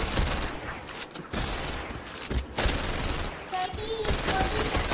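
Gunfire in the Shooting Range game of VR Worlds, heard as dense, rapid bursts of shots in quick runs with short gaps between them, loud and continuous for the whole stretch.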